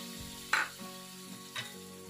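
Flour roasts in butter over low heat for white pasta sauce, a quiet soft frying hiss with two brief scraping stirs, close and without speech.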